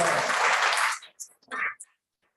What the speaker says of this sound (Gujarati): એકવાર જોરદાર તાળી આપો